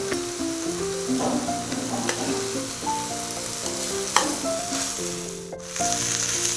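Rice sizzling and being stirred while heated in a pan for Kerala-style chicken dum biryani, a steady frying hiss with soft scraping under light background music, fairly close and even throughout.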